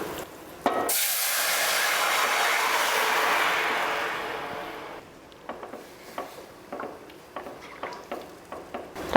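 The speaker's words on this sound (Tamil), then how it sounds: "இப்போ ரசத்தை இதில் ஊற்றிடலாம்." Rasam poured into a hot tempering pan sets off a loud, sudden hiss that holds for several seconds and fades, followed by soft bubbling and light clinks of stirring.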